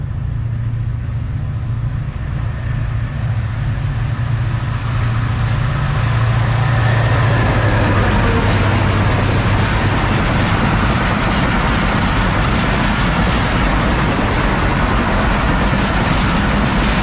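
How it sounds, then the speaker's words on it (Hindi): The 15 Up Karachi Express passes through a railway station close by, a loud and continuous rushing roar with the rhythmic clatter of wheels over rail joints that builds and keeps up for its whole length. "15 अप कराची एक्सप्रेस।"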